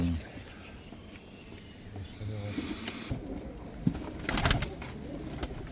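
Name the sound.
Sivas pigeons cooing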